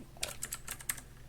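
Quick, light keystrokes on a computer keyboard while coding in JavaScript, a short irregular burst of about eight close clicks over a quiet room hum.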